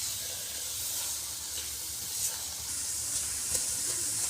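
Semolina halwa with walnuts and peanuts roasting in a pan gives a steady, soft sizzling hiss that stays even throughout, with a few faint clicks and no talk.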